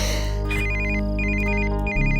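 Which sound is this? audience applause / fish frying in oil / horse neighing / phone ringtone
phone ringtone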